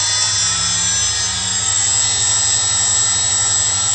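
A new spindle motor on a CNC machine runs at steady speed, a loud continuous high whine with a low hum beneath, unbroken throughout.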